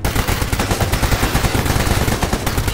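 Heavy, sustained gunfire in a video game, loud rapid automatic bursts running continuously with dense overlapping shots and no pause.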